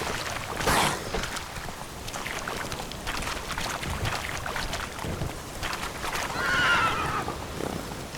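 Roach, the horse in The Witcher 3, whinnies loudly near the start and again near the end, while hooves beat a steady galloping rhythm throughout, with no speech.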